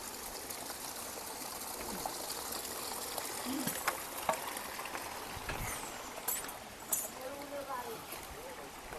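A small forest stream in the Damgad jungle near Amarkantak, on a Narmada parikrama trek, flows with a steady broadband rush and trickle that stays close and even, with a few faint voice-like sounds in the background.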